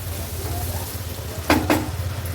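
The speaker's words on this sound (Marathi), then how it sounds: "टोमॅटो पण व्यवस्थित आपण परतून घेऊया मसाल्यामध्ये." Tomato being sautéed in spice masala in a pan for a Konkan dry jawla (dried shrimp) dish gives a steady soft sizzle, with two brief louder stirring scrapes near the end.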